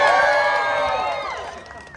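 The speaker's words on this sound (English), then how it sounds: "thank you so much for clapping" A live theme-park story-time crowd at Disney California Adventure cheers and whoops loudly, a bright wash of voices and clapping that fades steadily over two seconds.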